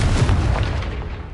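A heavy booming blast from a Confringo explosion spell in a Harry Potter video game, loud and close, with a deep rumbling body that decays over a second.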